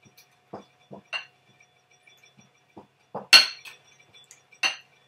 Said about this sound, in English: but just mash them down